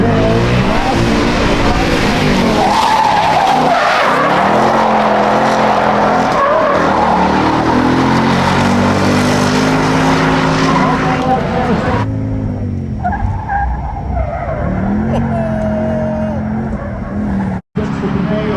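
A 2024 Mustang RTR Step-Through drifts with loud, continuous tire skidding and squeal over its engine roar, the screech easing and the engine note changing partway through, with voices talking over the noise.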